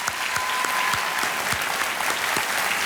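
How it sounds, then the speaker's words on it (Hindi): Studio audience claps loudly on a televised quiz show set during a Children's Day episode, sustained dense applause with sharp individual claps standing out near the front. "तालियां बज जाएं इनके लिए।"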